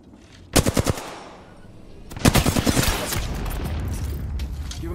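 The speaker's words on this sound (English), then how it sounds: "Getting shot at." Gunfire in the video game Apex Legends: a short rapid burst near 0.5 s, then a longer sustained volley with clear repeated shots from about 2.3 s, loud and close, with battle noise continuing underneath.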